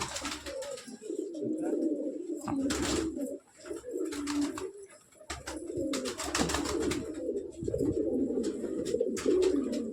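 A large flock of pigeons coos in deep, throaty, overlapping rolls near the listener, with bursts of wing flapping and scuffling breaking through at intervals.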